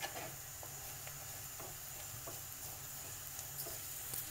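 Spiced masala being stirred in a hot pan for a Kerala-style pepper chicken curry, giving a steady low sizzle with soft scraping strokes of the spoon at irregular intervals, close and fairly quiet throughout.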